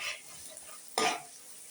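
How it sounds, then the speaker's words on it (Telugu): Dried shrimp and onions frying in hot oil give a steady close sizzle, then a sharp louder burst of sizzling and stirring partway through that fades back down. "ఎండు రొయ్యలు బాగా ఫ్రై అవుతున్నాయండి. ఆయిల్లో బాగా ఎండు రొయ్యలు ఆనియన్స్ బాగా ఫ్రై అవ్వనివ్వాలండి."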